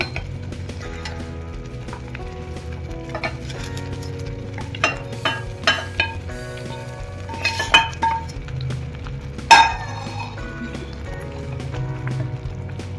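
Paneer being added to cooked masala gravy in a pan and stirred, with repeated metallic clinks and scrapes of a spoon against the pan over a low background hum, several sharper knocks in the middle.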